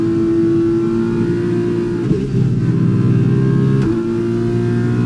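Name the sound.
Formula 1 car engine in video game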